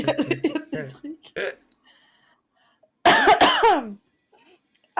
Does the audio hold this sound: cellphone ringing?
no